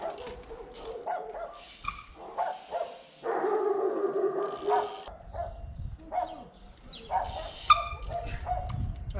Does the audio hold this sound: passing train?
no